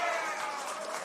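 Spectators at a men's NPL NSW football match between St George City FA and Sydney Olympic FC cheer a challenge, a brief, fairly loud burst of crowd noise with a commentator's voice over it.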